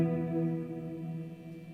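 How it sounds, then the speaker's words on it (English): An electric guitar chord rings out drenched in heavy reverb, its layered tones sustaining smoothly and fading slowly over under two seconds, moderately loud and alone with no talking. "Let's put on some super reverb."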